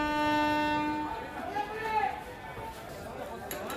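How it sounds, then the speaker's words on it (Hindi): A busy platform at Raipur railway station, with crowd chatter and a drawn-out train horn at the start, followed by the rumble of trains and station noise under a voice. "रायपुर रेलवे स्टेशन पर पिछली बार की तरह नजारा है।"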